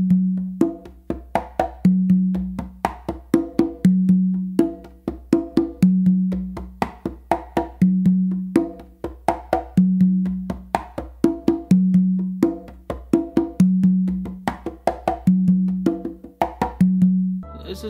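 Songo rhythm played on two congas, a steady repeating pattern of sharp open tones and slaps, loud and close, with no voices.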